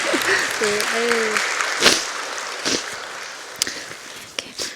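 An audience at a Korean Friday night church revival service applauds steadily, with a voice sounding briefly over the clapping early on.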